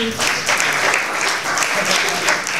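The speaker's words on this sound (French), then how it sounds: "Est-ce qu'on peut les ovationner?" Audience at a slam poetry final applauding and giving an ovation, with dense, continuous clapping and a few faint voices mixed in.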